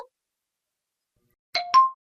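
Two short electronic chime tones sound in quick succession, clear and close, like a phone starting to ring in a quiet room, with silence before them.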